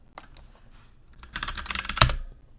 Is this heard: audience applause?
no